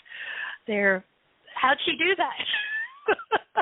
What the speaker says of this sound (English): Do I hear a kitty in the background?